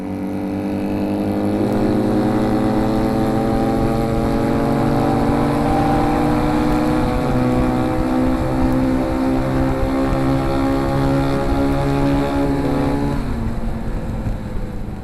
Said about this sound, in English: This is almost like two motorcycles riding as if they were only one.